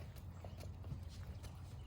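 Faint, rhythmic hoofbeats of a horse trotting, soft repeated thuds heard at a distance over low background rumble, with no talking.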